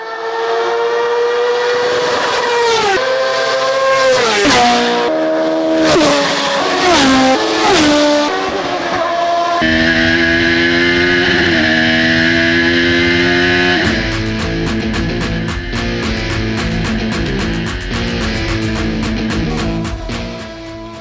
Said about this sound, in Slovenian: in nepozaben zvok dirkalnika, ki po vrhunsko odpeljanem ovinku odmeva v daljavi.